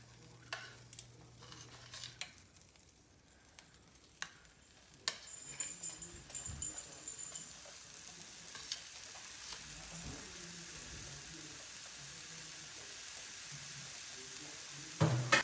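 Pork chops sizzling in a hot frying pan: a quiet hiss at first, then a steady louder frying crackle from about five seconds on, with occasional clinks of utensils and no talking.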